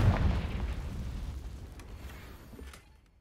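Confringo spell explosion in the video game Hogwarts Legacy: a loud, close fiery boom at the start that rumbles and fades out over about three seconds, with faint game sounds trailing.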